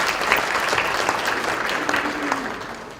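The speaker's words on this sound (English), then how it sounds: "please give her a round of applause" An audience at a spring faculty institute address claps in sustained, dense applause that stays at an even level throughout.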